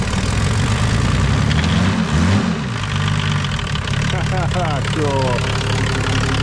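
Turbodiesel car engine running on vegetable oil idles loudly nearby with a steady low rumble and one brief rev, while people talk over it.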